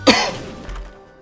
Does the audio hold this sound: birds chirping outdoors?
no